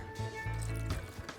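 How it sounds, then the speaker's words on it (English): A short stretch of water being poured into barbecue chicken sauce in a home kitchen, a soft wet trickle and splash over a low steady background hum. "Add a little water in that"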